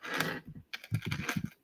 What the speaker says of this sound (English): Typing all fast.